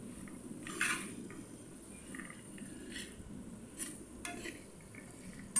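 Stirring and frying vegetables and peas in a pan for veg ghee rice, with quiet scraping and clinking of a spoon against the pot over a faint, low cooking background.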